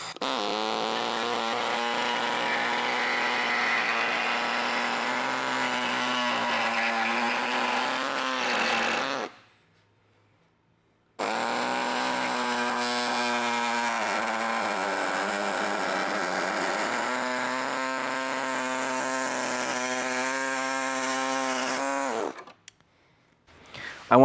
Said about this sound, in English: we got the air saw here. I'm going to go ahead and cut it right on the very end.